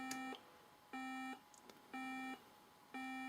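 Electronic beep tones sound four times at an even one-per-second pace, each a steady pitched tone lasting about a third of a second, clean and alone against a faint background hiss.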